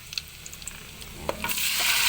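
Vegetables hit a hot pan and fry, light taps and clinks of stirring giving way to a loud, rising sizzle close up, with no talking.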